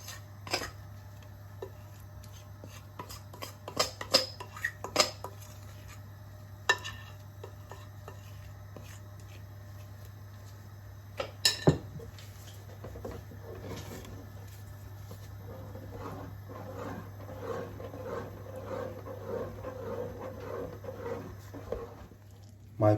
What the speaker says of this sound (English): You have to keep on stirring this.